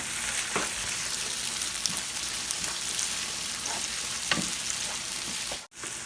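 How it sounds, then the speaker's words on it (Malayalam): Tomatoes sauté with crushed ginger and garlic for a biryani masala, giving a steady close sizzle with occasional stirring scrapes that cuts off briefly near the end. "ഇനി നമുക്ക് ആ തക്കാളി അതിനകത്തേക്ക് ചേർത്ത് കൊടുക്കാം."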